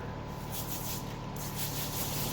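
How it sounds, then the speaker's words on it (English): A spray bottle hisses slip solution onto a Toyota Camry rear window during tint installation, with several close, soft bursts of spray blending with rubbing sounds. "spray as I'm pulling the liner"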